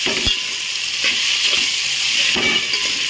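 Leftover cooked rice being mixed with a spoon in a hot frying pan with chilies: a steady loud sizzle with repeated scraping strokes of the spoon against the pan, close up, with no talking.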